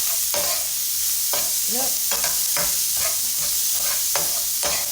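Onion, cilantro, garlic and ginger seasoning frying in a pan for egg curry, with a steady close sizzle broken by repeated spatula scrapes and stirs, and a brief voice.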